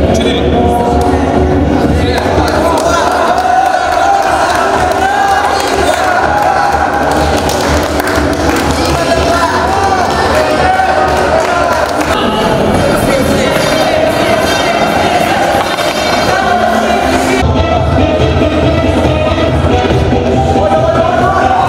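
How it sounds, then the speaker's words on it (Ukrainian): Spectators at a Cossack sports contest cheering on competitors, a continuous loud crowd roar with thumps and taps mixed in, heard under a talking voice throughout. "Підтримували хлопців вболівальники"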